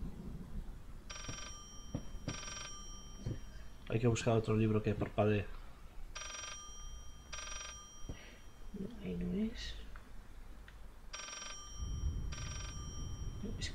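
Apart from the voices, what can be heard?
telephone ringing in video game Layers of Fear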